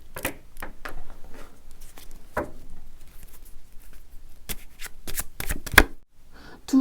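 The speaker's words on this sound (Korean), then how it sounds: "두 사람을 위한 어떤 조언 카드를 조금만 더 뽑아볼게요" Tarot cards being shuffled and drawn by hand: soft riffling and flicking bursts with irregular taps and slaps, close and fairly quiet, no voices.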